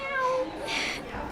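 A cat meows in a short, fairly loud call with a brief higher-pitched rise in the middle, close to the microphone, within a farm animal game setting.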